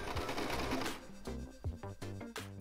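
A sewing machine stitches a vintage-style summer dress in short, close, rhythmic bursts that start and stop between runs.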